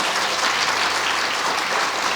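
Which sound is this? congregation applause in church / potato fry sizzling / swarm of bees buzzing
congregation applause in church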